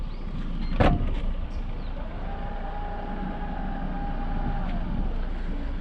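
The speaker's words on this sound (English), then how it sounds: "The car comes with a hands-free tailgate opening system. Simply wave our leg below the car to open the trunk." A hands-free power tailgate opens on a 2021 Opel Grandland X Innovation, with a sharp click early on followed by a steady, moderately loud electric motor whine running several seconds over background hum.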